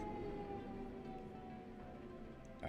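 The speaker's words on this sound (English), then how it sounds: "do I already have sirens in the background?" A distant emergency siren wails faintly as a thin steady tone under a low background rumble, with no one talking.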